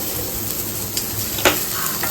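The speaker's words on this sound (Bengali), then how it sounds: "ওগুলো একটুখানি আমি ফ্রাই করছি এখানে, মানে ফ্রাই নয়, সতে বলতে পারো" Cubed capsicum and onion with a little spice sauté in a pan, giving a steady close sizzle with a couple of brief scraping stirs.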